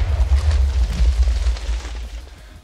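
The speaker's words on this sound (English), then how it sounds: "And next we have the TNT firework." A TNT firework from the Too Much TNT mod in Minecraft goes off as a heavy, rumbling blast, with booming low-end explosions rolling continuously for a few seconds and slowly fading.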